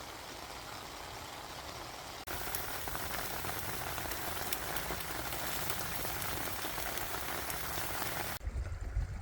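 Heavy rain pouring down at night on a camp on Anglezarke Moor near Lead Mines Clough, a dense steady patter on a surface that grows louder after a few seconds and ends in a low rumbling thud.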